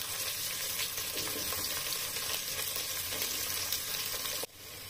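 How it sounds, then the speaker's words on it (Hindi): Onions, capsicum and carrots frying in a pan for veg biryani, a loud dense close sizzle that holds steady throughout, then drops abruptly to a softer hiss near the end. "प्याज डालते ही जो आवाज आई है उसके तलने भुनने की, वो बहुत ही मनमोहक आवाज है।"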